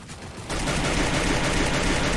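Rapid gunfire from the Free Fire video game, a dense continuous burst of automatic shots that starts abruptly and stays loud to the end.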